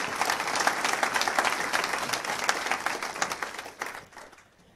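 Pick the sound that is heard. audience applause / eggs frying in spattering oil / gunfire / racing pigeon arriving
audience applause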